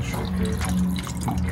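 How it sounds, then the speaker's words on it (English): Gin poured from a bottle into a cocktail shaker while making a martini, a short liquid trickle and splash with gurgling drips, close and moderately loud, with no talking over it. "So he is pouring the gin."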